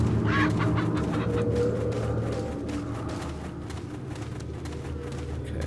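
Chickens cluck in Resident Evil 4, a dense, continuous run of clucks and squawks over a busy game background, fairly loud with no talk over it.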